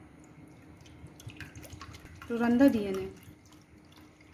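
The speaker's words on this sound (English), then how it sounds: "now we will pour the 1x TAE, which will act as electrolyte" Liquid splashes and trickles as 1x TAE buffer is poured into an agarose gel electrophoresis chamber, a short burst of pouring under a person talking over it.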